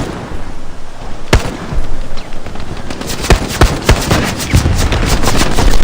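Gunfire in the World War II shooter Hell Let Loose: sharp, loud single shots and short bursts crack at close range, spaced irregularly and then tightening into rapid volleys over a steady battlefield rumble.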